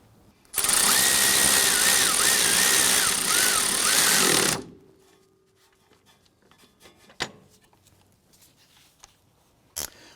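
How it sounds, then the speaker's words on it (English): A power tool tightens the clevis fork bolt on the control arm of a 2004-2008 Acura TL, whirring loudly and steadily for about four seconds before stopping, followed by a few faint clanks from tools and parts. "We're going to go ahead and tighten that bolt down."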